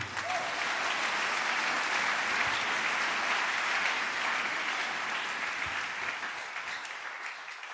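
A church congregation at a worship service bursts into sustained applause and acclaim, a dense roar of clapping that holds steady and then tapers slightly toward the end.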